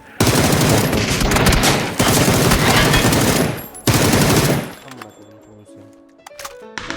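Gunfire in the PUBG video game: three long loud bursts of rapid automatic fire separated by short pauses, then quieter clatter as the shooting stops, with a player's voice faintly present.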